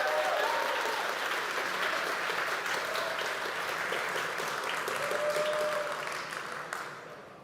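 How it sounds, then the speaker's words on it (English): Sustained applause from an audience at a JavaScript app conference welcoming the next speaker, a dense, even clapping that holds steady before tapering off at the end. "Can we all give him a round of applause?"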